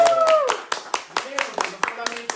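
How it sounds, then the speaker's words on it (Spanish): A few scattered claps ring out in a spiritual teaching session on the seven rays, sparse and uneven under lively talking and exclamations. "aplauso!"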